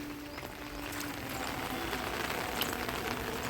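Steady rain falls outside a house, a soft continuous hiss at moderate distance with faint scattered patters and a low hum early on.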